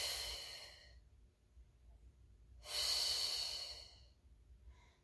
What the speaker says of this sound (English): I'm going to exhale to lift and inhale to lower.